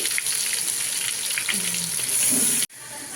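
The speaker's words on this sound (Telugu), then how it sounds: "అల్లం, వెల్లుల్లి, కొబ్బరి ఆ పేస్ట్ అయితే వేస్తున్నాను." Ginger, garlic and coconut paste hitting hot oil, a loud close sizzle that holds steady and then cuts off abruptly near the end.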